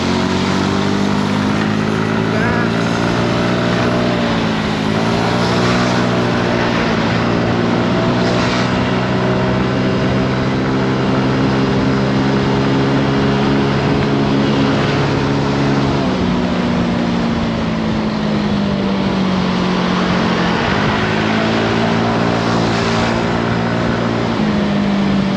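A Yamaha Mio GT 2014 scooter engine revving under throttle, a loud steady drone that rises and falls in pitch several times as the throttle is opened and eased, close by and continuous.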